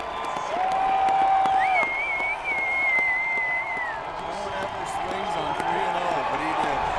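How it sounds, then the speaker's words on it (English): Baseball stadium crowd cheering a home run during the ALCS, a loud, continuous roar of many voices with a steady whistle-like tone rising above it, sustained throughout. "Listen to the crowd go!"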